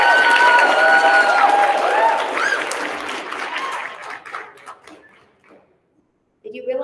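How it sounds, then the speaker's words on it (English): Applause for sixth graders at a 6th grade continuation ceremony, a loud burst of clapping with some cheering voices that fades over several seconds and drops to near silence before a voice returns. "Let's give a round of applause for all our sixth graders."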